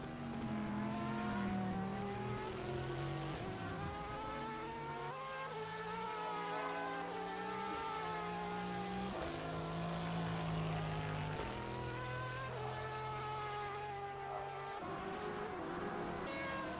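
GT race cars lapping a circuit during a pre-season practice session, with engine notes rising and falling as they pass and shift gears, a continuous stream of overlapping, fairly distant cars.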